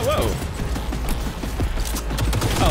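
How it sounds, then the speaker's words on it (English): A flashbang grenade goes off in the game Cyberpunk 2077, a loud, dense burst that blends into rapid gunfire and clattering noise that keeps going without a break. "Oh, that's a flashbang."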